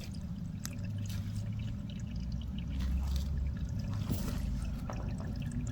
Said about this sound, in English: Sure, I can hear running water down here.